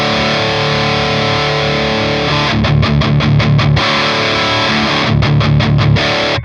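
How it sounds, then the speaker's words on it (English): Electric guitar through a Plexi-style distortion pedal set low enough to show crossover distortion: loud, gritty sustained chords, then rapid chugging bursts with short gaps, no talking. "So there's some sort of crossover distortion going on."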